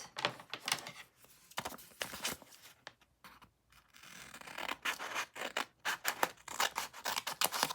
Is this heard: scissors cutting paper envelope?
yes